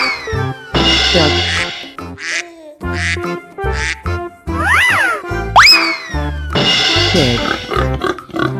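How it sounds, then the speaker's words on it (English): Cartoonish duck quacks from a 3D animal video game ring out amid busy game music and effects, with bright sliding sound effects around them. "duck,"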